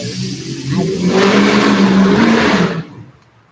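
A car passes near an outdoor garden, its engine noise swelling to a loud rush over about two seconds and then dropping away quickly, leaving near silence.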